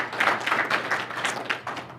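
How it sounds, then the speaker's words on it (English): A small group at a company meeting applauds the commercial team, a few pairs of hands clapping in quick, irregular bursts at moderate distance. "big round of applause for those guys"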